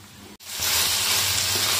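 250 grams of boneless chicken hits a pan already coated with ginger-garlic paste over high flame. A brief pause gives way to a loud, steady sizzle that fills the rest of the moment.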